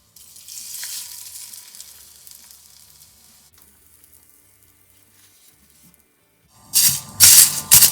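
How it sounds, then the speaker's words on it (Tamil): Hot sesame oil with mustard seeds and curry leaves tossed in: a faint hiss to start, then after a quiet stretch a loud, close burst of spitting, crackling sizzle in two surges. "நல்லெண்ணெய் கொஞ்சம் கூட விட்டு கடுகும் போட்டு கருவேப்பிலையும் போட்டு தாளித்து சுட சுட அதுக்குள்ளே கொட்டணும்"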